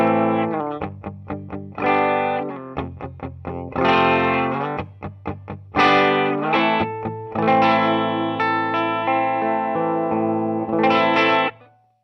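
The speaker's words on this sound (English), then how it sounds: "It's quite a bright and less full sounding humbucker, but still sounds like a humbucker." Electric guitar through a bright, thin-toned humbucker pickup, played clean with chorus and reverb-like effects: short plucked chords at first, then longer ringing strummed chords, loud and close, no voices.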